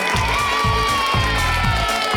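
Children clap and cheer together for Chacha and Mr Charlie, a steady burst of crowd cheering and applause with a rhythmic musical pulse underneath, loud and continuous throughout.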